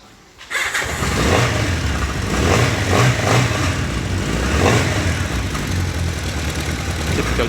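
A poorly maintained Honda CBX750P four-cylinder motorcycle fires up after a brief silence and settles into a loud, steady idle with slight rhythmic throbbing, close to the listener.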